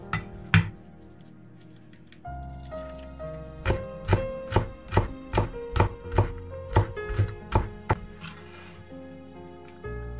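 Kitchen knife chopping three flattened garlic cloves into mince on a cutting board, about a dozen crisp, evenly spaced thunks in a steady rhythm, close and clear with quiet background music.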